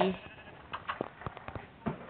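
Several short sheep bleats from Minecraft sound in quick succession, with other game noises and a bit of talk mixed in.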